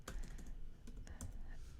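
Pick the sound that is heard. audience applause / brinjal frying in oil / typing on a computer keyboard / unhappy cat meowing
typing on a computer keyboard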